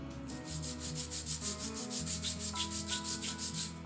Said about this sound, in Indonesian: sekarang saya mau amplas dulu nih si kanvas remnya